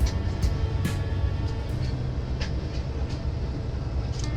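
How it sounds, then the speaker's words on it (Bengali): A passenger train at Kuliarchar station, departing for Bhairab, rumbles steadily and loudly with faint intermittent rail clicks, no voices. "এখন কুলিয়াচর থেকে ডাইরেক্ট ভৈরব উদ্দেশ্যে ট্রেন রওনা দেবে"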